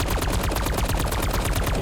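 A DM-10 gun in a shooter game fires at a very fast automatic rate with a double-tap augment. It gives a loud, close, continuous stream of punchy shots that never pauses.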